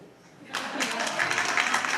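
Applause from a live audience at a singer's show, erupting after a brief quiet and holding as a dense, steady wash of clapping that grows slightly toward the end.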